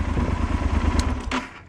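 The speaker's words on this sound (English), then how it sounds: "All we do now is shut off the engine" A Yamaha Super Tenere motorcycle engine idles with a steady low chugging pulse, then winds down as it is shut off, with a brief metallic click near the end and no talk.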